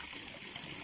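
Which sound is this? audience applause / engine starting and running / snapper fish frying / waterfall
waterfall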